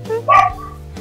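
Dog bark from the game Minecraft, a single loud, sharp yelp followed by a short whining tail, close and alone.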